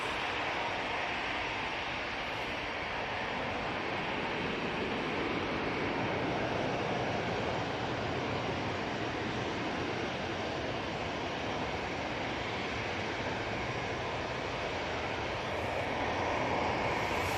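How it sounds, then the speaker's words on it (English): A Ryanair airliner taking off for Toulouse gives a steady, broad engine roar that holds loud and even for the whole stretch, with no voices over it. "Ryanair off to Toulouse."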